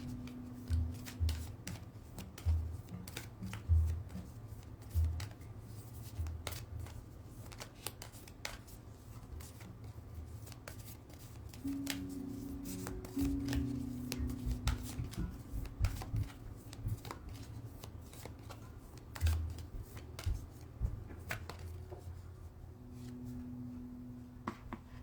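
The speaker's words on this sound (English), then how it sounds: "I'm going to go ahead and close this out with a oracle card from the Beyond Lemuria deck" A Beyond Lemuria oracle card deck is shuffled close by, soft riffling bursts repeating at uneven intervals over a quiet room with a faint low hum.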